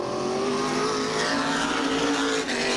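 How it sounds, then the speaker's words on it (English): A NASCAR Modified Tour race car roars around the short oval at Riverside Park, engine held at a loud, sustained high pitch with slight shifts in tone, steady and close throughout. "The DML Softwares automobile is up next, car number 99 for Jamie the Jet out of Neptune, New Jersey"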